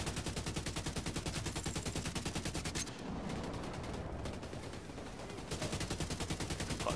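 Rapid automatic gunfire in the video game The Division 2, loud, evenly spaced bursts of shots that break off briefly in the middle and then resume at the same fast rhythm.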